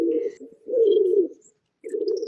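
Pigeons cooing close by in soft, low, throaty bursts, three warbling coos separated by brief pauses, with faint chirps in the background.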